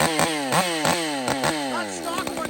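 A Stihl 201 chainsaw, its M-Tronic being reset after a muffler swap, revs hard and close, the engine pitch sweeping up and down in repeated throttle blips with a rough, buzzy two-stroke edge.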